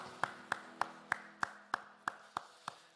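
Nine slow, evenly spaced claps ring out in a church during a Sunday worship service, fairly faint and steady, like a single pair of hands or a small congregation clapping in unison under a low sustained hum.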